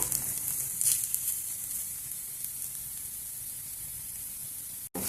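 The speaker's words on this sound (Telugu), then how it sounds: "ఆలు ఫ్రై చేసేటప్పుడు కొంచెం వెడల్పు ఉంటే" Sliced potatoes sizzle and fry in oil in a wide kadai, a steady close hiss with a brief sharp clatter near the end.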